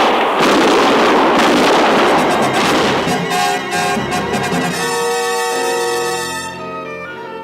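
A rapid, loud volley of gunshots and bursts during a frontier radio drama battle, dense at first and then thinning into ringing tones as a musical sting takes over.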